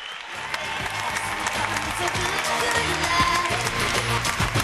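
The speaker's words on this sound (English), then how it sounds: "Let's all cheer." An audience bursts into applause and cheers at an award presentation for a high school robotics team in New York, a steady, fairly loud wash of clapping with a voice speaking over it.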